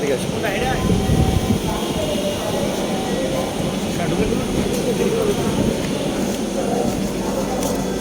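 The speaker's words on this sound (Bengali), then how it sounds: "আমরা আসার সাথে সাথে আমরা পেয়ে গেলাম আমাদের মেট্রো" A metro train rumbles and clatters steadily as it arrives in a busy station, with a constant low roar and people talking over it throughout.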